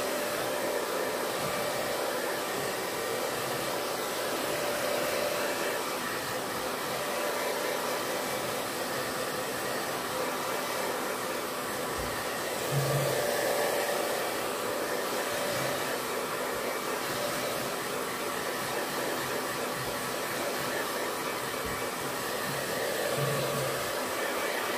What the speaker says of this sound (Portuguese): Secador é top. Secador demais.